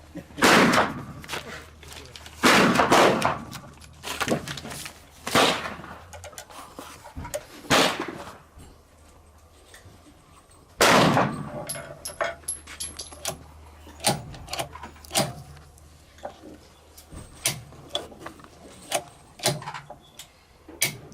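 Sharp, loud .22LR gunshots from a Ruger MK II pistol clamped in a Ransom Rest at an outdoor range, spaced irregularly over several seconds with ringing tails between shots.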